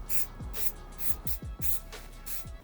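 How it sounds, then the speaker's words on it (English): Several short, hissing bursts of water and stain repellent aerosol spray onto sneakers, outdoors, close by, repeated in quick succession with brief gaps between them. "I'm going to go outside and spray some Reshoevn8r water and stain repellent."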